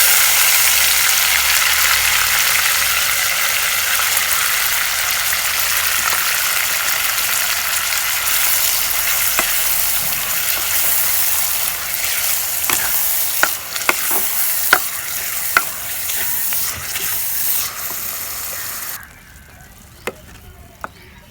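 Pounded chili frying in a pan for village-style idi chutney, a loud, steady sizzle close up with scattered stirring clicks and scrapes, cutting off abruptly near the end.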